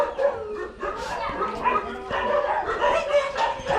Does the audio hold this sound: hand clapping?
no